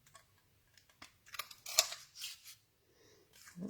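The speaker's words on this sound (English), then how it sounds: "And then I'm going to grab my banner punch. And just trim the end." A banner punch trims the end of a strip of card stock in a few short, crisp clicks and snips, quiet and close, with faint handling noises between them.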